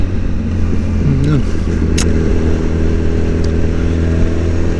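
A motorcycle engine runs steadily nearby as a continuous loud low drone with a slight rev partway through, and a voice speaks over it.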